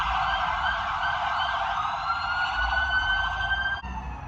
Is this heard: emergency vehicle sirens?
yes